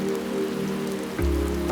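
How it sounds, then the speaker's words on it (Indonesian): Rain falls steadily in an animated water-cycle scene, a continuous even patter that stays alone at a constant level and grows slightly fuller and heavier toward the end. "Air turun dari langit dalam bentuk hujan"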